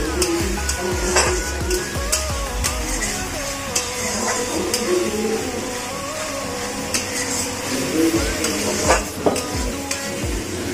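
Tadka spices with turmeric frying in hot oil in a pan, a steady close sizzle with scraping stirs and occasional clinks of a utensil against the metal, continuous throughout.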